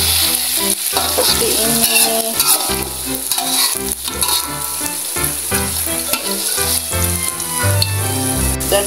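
Beaten egg poured over tempeh frying in a pan gives a steady, close sizzle with stirring noises throughout, alongside a brief spoken phrase.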